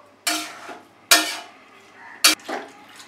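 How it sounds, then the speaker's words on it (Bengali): Spoon scraping and clanking against a pot as vegetables for Bengali khichuri are stirred, three sharp metallic strokes with quieter scrapes between, close and clear with no talking. "আর বাকি সমস্ত সবজিগুলো এর মধ্যে দিয়ে দিলাম। ভালো করে নেড়ে দিলাম।"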